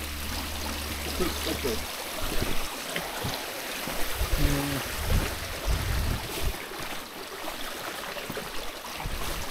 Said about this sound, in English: you're basically climbing up rocks that are currently a waterfall